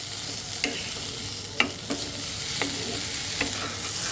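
Mola fish with a small tomato cooks in a pan during stir-frying, giving a soft continuous sizzle and a few sharp scrapes from a spatula as it is moved around, close but fairly quiet.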